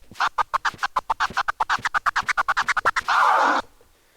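A fast train of about two dozen choppy flurp turntable scratch strokes on a record, ending in a short sustained smear of scratch noise before cutting to silence, loud and close.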